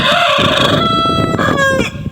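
A rooster crows loudly and close by in a long, drawn-out call that breaks off near the end, with no voices.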